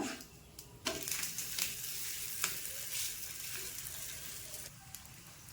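A wheat roti sizzles softly in a little oil on a pan after being flipped, a steady quiet frying hiss with a few light taps and scrapes and no voices.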